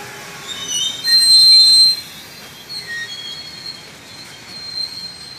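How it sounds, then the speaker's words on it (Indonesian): Steel wheels of a former cement freight train squeal at the Jakarta Gudang rail yard in Kampung Bandan, a high-pitched screech that peaks loudly for about a second, then continues as thinner, fainter squeals under the rolling of the wagons. "kereta api bekas semen"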